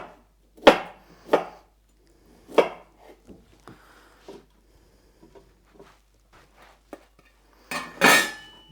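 A knife chops broccoli florets on a cutting board during home meal prep, several sharp separate cuts close by with quiet gaps between, then a louder cluster of chopping at the end.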